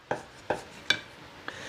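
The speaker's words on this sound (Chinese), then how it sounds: "先切一下再来剁" A knife chops pork belly on a cutting board in four sharp, separate strikes, roughly evenly spaced, close and crisp against a quiet kitchen background.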